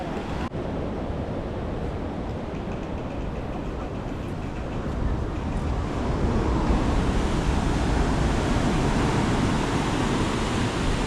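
Ocean surf off Bali, a broad, continuous roar of waves that swells slightly louder toward the end, with wind noise and no talking.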